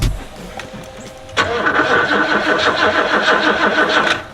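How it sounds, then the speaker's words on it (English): A 1987 Oldsmobile Cutlass, left sitting for 25 years, cranks in a loud, rhythmic, labored churn for several seconds without catching, following a quieter lead-in. "Seeming like it don't want to crank."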